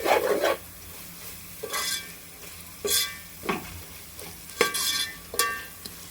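Biryani ingredients fry in oil and are stirred in a pan, close sizzling punctuated by about seven regular scraping strokes of a spoon against the pan.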